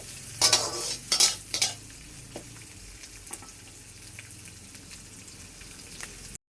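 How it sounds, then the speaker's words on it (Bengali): Chopped onions and green chillies fry in a pan with a few loud clattering stirs at first, then settle into a quieter steady sizzle with occasional light scrapes, heard up close with no talking. "কাঁচা লঙ্কা দিয়ে দেব, পেঁয়াজ কুচি দিয়ে দেব, ভালোভাবে লাল লাল করে ভেজে নেব"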